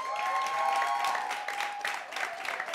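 Studio audience applause on a French variety broadcast, a steady wash of clapping with a sustained tone and crowd noise beneath.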